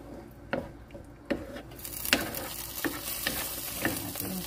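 A spoon stirs garlic and herb pasta sauce in a pan, with a soft sizzle underneath and several distinct scraping knocks at a slow, uneven rhythm, close and fairly quiet.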